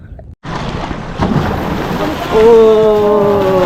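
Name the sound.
strong ocean waves while fishing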